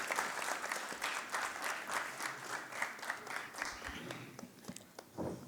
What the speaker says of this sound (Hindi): ज़ोरदार तालियों के साथ इस्तकबाल की